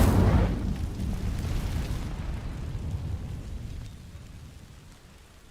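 In Hogwarts Legacy, the Incendio fire spell ignites a patch of dry vines with a sharp burst. A crackling, rushing burn follows and gradually fades over several seconds, with no voices.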